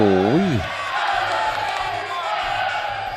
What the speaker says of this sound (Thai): เสียงเชียร์เริ่มดังครับ